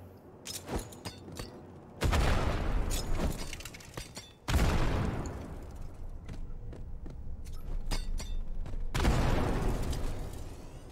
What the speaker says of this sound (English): Don't throw grenades at me!